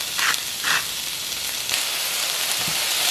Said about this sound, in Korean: 살짝 달궈진 팬에 오일을 두르고 채 썬 양파를 넣어줄게요